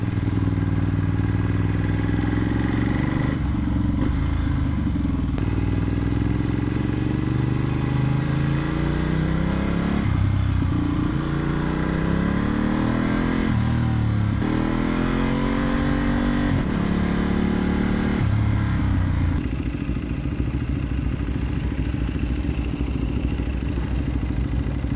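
A Vyrus motorcycle is ridden, its engine loud and close throughout, rising and falling through repeated revs and gear changes with clattery mechanical texture and steady road and wind noise.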